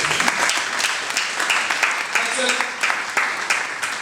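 Church congregation applauding to acclaim the Lord at a gospel business breakfast, a steady wash of clapping under a voice speaking over it.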